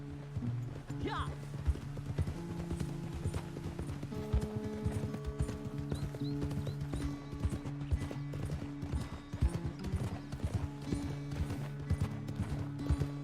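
Horse hooves clip-clop in a steady, brisk rhythm during riding in the video game Red Dead Redemption 2, with a short whinny early on and game voices talking over the hoofbeats.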